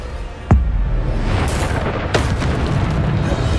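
A Bombarda spell in Hogwarts Legacy goes off as a sudden booming blast with a heavy low rumble, followed by a second crackling burst over continuous loud game noise.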